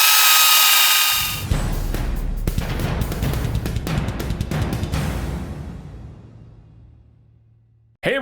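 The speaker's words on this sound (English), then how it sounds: "I'm just going to try and drill straight into the center and just see what happens." Power drill biting into the center of a fake silver dollar coin, a loud harsh whirring grind with rapid crackling bursts that continues steadily for several seconds before winding down and stopping.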